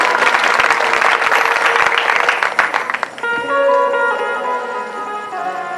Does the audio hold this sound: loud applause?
yes